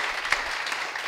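Brief burst of continuous applause from a church audience, steady and fairly full throughout with no speech over it.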